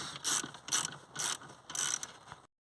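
Ratchet wrench loosening the 13mm clamp on a Mercedes-Benz car battery, four short bursts of quick metallic clicking close up, with brief pauses between strokes and no talk.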